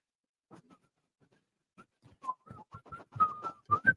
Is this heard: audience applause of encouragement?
no